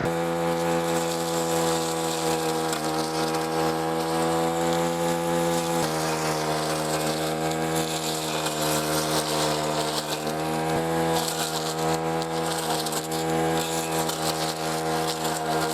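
A Greenworks 80V cordless trimmer whines at a high, steady pitch while cutting silver grass, its harmonic tone loud and continuous with brief dips as the blade meets thicker stems.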